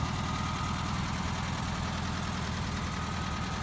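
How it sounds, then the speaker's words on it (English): A Volkswagen split window bus with a 1600 dual-port engine idles at close range, a steady low rumble with an even, fast pulsing beat and no voices. "It's just a good working engine. It's a 1600"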